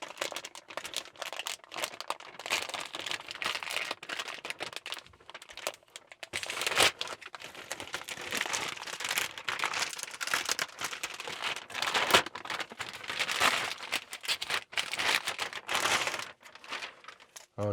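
Close crinkling and tearing of plastic and paper packaging as a 16-inch Tesla Model Y screen is unwrapped, irregular rustles and crackles in bursts with short pauses, no talking.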